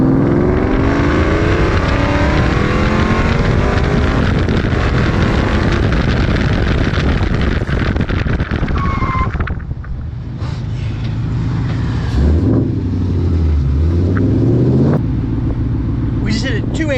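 A car brakes hard from 60 mph to a full stop during a timed stopping test. Loud wind and road roar die away within a few seconds, leaving a quieter cabin hum while people talk under it.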